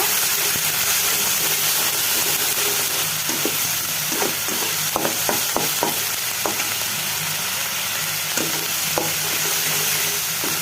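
Onion and garlic paste fries in oil, giving a constant loud sizzle and hiss throughout, with scattered sharp clicks and scrapes as a spoon stirs the pan.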